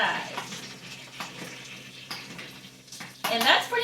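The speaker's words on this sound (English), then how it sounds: "you hear the sizzling of the chicken?" Chicken sizzles and crackles as it fries in a pan, a close, uneven hiss with a few scraping and stirring clatters and a louder burst near the end.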